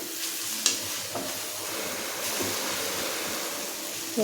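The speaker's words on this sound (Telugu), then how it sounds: "క్యాబేజ్ చక్కగా వేగిపోయిందండి" Shredded cabbage frying in oil in a pan, a continuous close sizzle with a couple of brief spatula knocks, steady and fairly loud.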